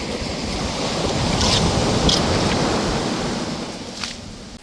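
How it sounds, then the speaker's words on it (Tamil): Ocean waves wash up onto a beach and draw back, a loud, broad surging roar swelling and easing under steady wind buffeting the microphone, with no voices. "கரையை வந்துட்டு போகும்போது எவ்வளோ அழகாக போகுதுன்னு பாருங்கள் அந்த அலைகள்"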